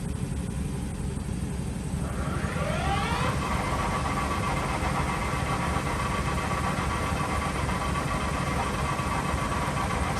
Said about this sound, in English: Now we'll turn on the spindle.